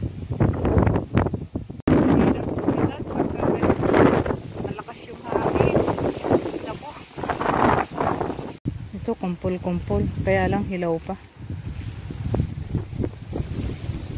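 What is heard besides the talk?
strong wind blowing on a farm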